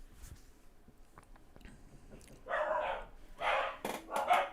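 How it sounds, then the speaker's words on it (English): Dogs barking in the background, three loud bursts in the last two seconds after quieter sounds, with no speech over them. "excuse me if you can hear dogs barking"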